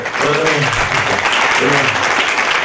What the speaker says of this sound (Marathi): नापास झाल्याबद्दल टाळ्या वाजवतात खूप